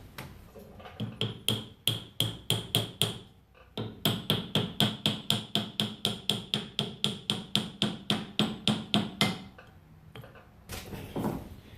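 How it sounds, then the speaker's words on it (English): Steady hammer blows driving a small wooden dowel through a hole while fitting bass guitar machine heads, about thirty sharp, evenly spaced strikes in two long runs, close and loud. "I'm going to force this little piece of doweling through that hole"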